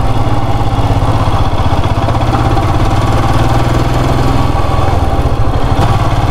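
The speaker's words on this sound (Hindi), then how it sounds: "बाइक चलाने में मज़ा आ रहा है।" A motorcycle engine drones loudly and continuously at a steady pace while riding a narrow, winding mountain road in North Sikkim, India, with no speech over it.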